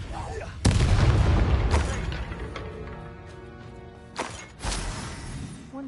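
Confringo fire-spell blasts in the Hogwarts Legacy video game land as two heavy explosive booms, each followed by a rumbling, crackling decay.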